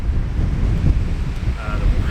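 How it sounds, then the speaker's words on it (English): Loud, rumbling wind buffets the microphone continuously, with a low roar and gusty swells throughout. "The weather's getting bad again, quite windy."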